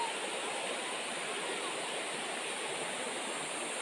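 Steady broadband rush of the Panicuan River in Bicol, Philippines, loud and continuous with no breaks, like rapids close by.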